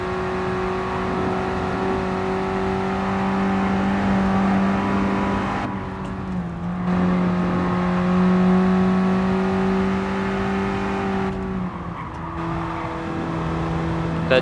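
Fiat 500 (2008) in GT Sport labouring up a steep hill, its small engine droning steadily at a low pitch with two brief dips as gears shift, loud and continuous throughout.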